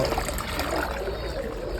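Water is poured out for pigeons, a continuous close splashing trickle heard alone without speech.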